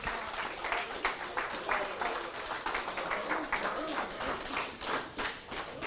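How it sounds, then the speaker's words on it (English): Audience at a car dealership award event clapping in a steady, fairly loud burst of applause, with scattered voices mixed in throughout. "Clap it up,"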